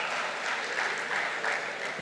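Sustained clapping from a crowd at a government housing announcement, a full, even patter of many hands that holds throughout the short stretch.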